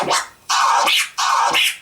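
Turntable scratching using the OG flare technique in two quick repeated phrases, each a forward push followed by choppy, flared cuts, loud and close with no talking.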